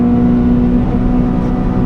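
Honda Civic FD2 Type R on semi-slick tyres lapping the Nürburgring, its engine a steady loud drone with road and tyre roar, heard close from inside the cabin without a break.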